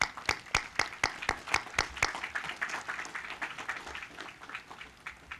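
A small audience at a Memorial Day ceremony applauds, a sparse group clapping in a fairly even rhythm, individual claps clearly distinct and gradually softening and blurring together over several seconds.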